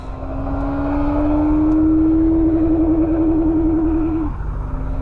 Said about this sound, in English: That'll be the rev limiter, Tony.